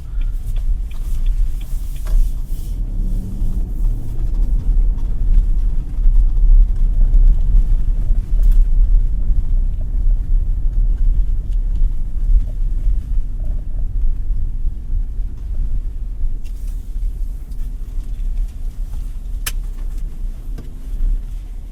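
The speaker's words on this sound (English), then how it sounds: "That was just a quick drive of the Nissan Patrol" 2024 Nissan Patrol LE V8 SUV on the move, a steady low engine and road rumble from inside the cabin, continuous and fairly loud throughout with no talking.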